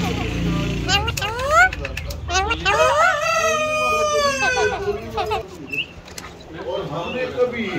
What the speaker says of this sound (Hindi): ये देखें छोटे कद के हैं मुर्गा और मुर्गी